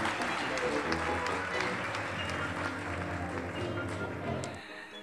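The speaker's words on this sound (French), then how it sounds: "Elle mérite nos applaudissements et tous nos encouragements" An audience at a recognition gala claps in a thick, sustained burst while a voice speaks over it, the applause tapering toward the end.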